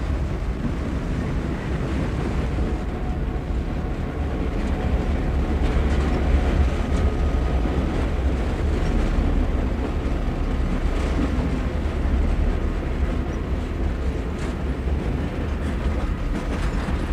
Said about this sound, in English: And another pair of E44s passed through the scene, meeting another Pennsy lettered freight.